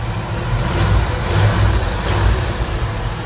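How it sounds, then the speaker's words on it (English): A 1960 Ford F250 brush truck's 292 Y-block engine runs steadily at a loud, rough rumble with a raspy, puffing exhaust texture from a cracked manifold and slight surges in throttle. "This truck has a crack in the manifold and it is it's nasty. You can you can kind of hear it."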